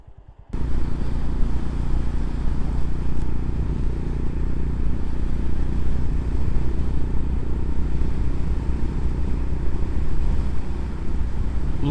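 A Honda GB350 motorcycle rolls downhill on a rough track, picking up speed with the throttle off. A smooth, steady engine drone is heavily mixed with constant wind rush on the microphone and continues unbroken throughout.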